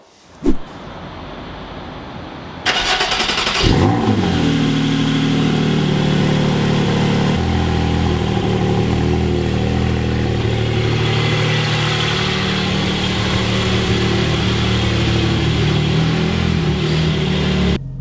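A crayon grey Porsche Cayman GT4 engine runs loud and close, with a sharp onset after a brief quiet start, then a steady sustained drone and a shift in pitch partway through, with no voices present.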